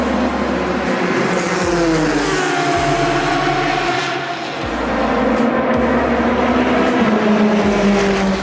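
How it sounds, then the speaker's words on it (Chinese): Le Mans race cars roar past in a loud, continuous engine drone, pitch rising and falling as each car passes at close range, with brief dips between passes and no talk. "如今大排量自然吸气的声浪的赛车虽然不是最快，但它的声浪的感受仍然是最好的"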